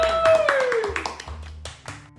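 Clapping during an Indonesian sociology podcast, a handful of sharp, separate claps in a loose rhythm, fairly close, alongside a sliding tonal sound and low thumps.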